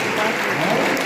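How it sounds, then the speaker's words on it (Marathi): An audience at a school celebration of Dr. Babasaheb Ambedkar's birth anniversary claps loudly, a dense, steady burst of applause filling the whole short moment. "त्यांच्यासाठी जोरदार टाळ्या"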